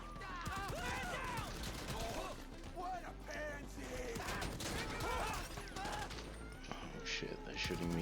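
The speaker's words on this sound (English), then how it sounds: "Shooting me through the van." Dense bursts of gunfire in GTA V during the Cayo Perico heist, with rapid repeated shots and bangs layered over game sounds and voices throughout.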